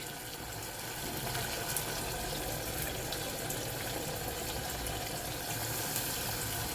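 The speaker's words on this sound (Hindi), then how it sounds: "जग में पानी डाल के वो भी डाल देंगे" Water gushing steadily into a jug in a home kitchen during preparation of haldi wala bhuna gosht, a continuous close, fairly loud pouring rush that holds for several seconds with no talking.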